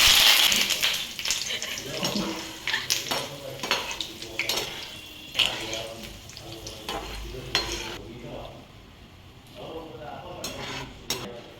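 Dried red chillies and curry leaves frying in hot oil for soya chilli chunks, with crackling sizzle and repeated stirring and clinks of a spoon against the pan, fairly close, and a voice talking over parts of it.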